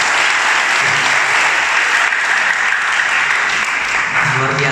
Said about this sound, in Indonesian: Berikan aplaus kepada guru kita.